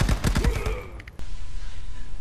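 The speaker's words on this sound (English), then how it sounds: "they start shooting in another place" Gunfire in the Contractors VR video game, a rapid close burst of shots that stops abruptly and gives way to quieter background noise.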